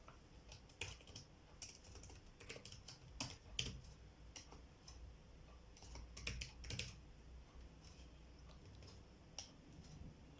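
Someone types on a computer keyboard, with quiet irregular key clicks in short clusters and occasional louder taps, close and alone.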